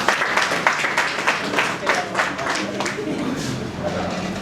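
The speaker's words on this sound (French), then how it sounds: "Applaudissez pour vous." An audience at a press new-year greetings speech claps in a brisk, uneven patter of many hands, moderately loud and fairly close, gradually thinning toward the end.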